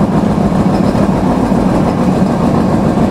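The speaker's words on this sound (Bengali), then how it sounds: "আমরা এই মুহূর্তে থ্রুপাস যাচ্ছি যশোরের রূপদিয়া রেলওয়ে স্টেশন। মারাত্মক গতি।" Aboard the Rupsha Express intercity train running through Rupdia railway station near Jessore at about 70–75 km/h, a loud, unbroken rumble of wheels and carriage fills every moment without pause.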